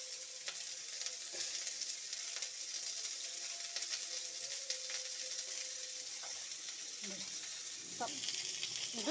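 Onions frying in oil with green chillies and curry leaves, a quiet, even sizzle with scattered crackles and stirring clicks, a voice briefly audible near the end.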